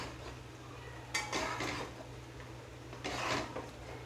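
Potatoes for Mughlai aloo dum are stir-fried in oil in a pan, with two short bursts of spatula scraping and clatter over a quiet, steady background hum.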